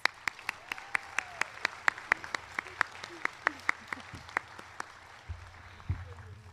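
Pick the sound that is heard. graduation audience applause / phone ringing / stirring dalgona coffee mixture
graduation audience applause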